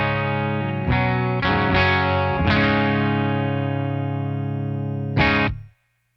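A Les Paul on its bridge pickup with low-output PAFs, played through a clean 1969 Traynor YBA-2A single-channel amp, rings out several full strummed chords that sustain and overlap, then one last chord cut off abruptly.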